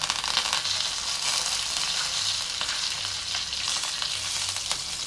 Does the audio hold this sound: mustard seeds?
yes